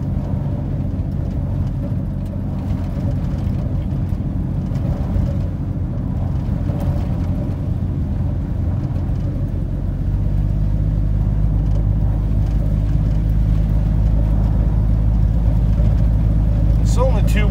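A 1982 Ford F150 truck engine rumbles loudly and continuously while driving, its low drone deepening and growing heavier partway through, with someone talking over it.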